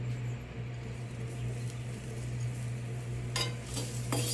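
Black pepper and grated coconut dry roasting in a pan, a soft continuous rustling sizzle with a low steady hum beneath and a brief burst of scraping near the end.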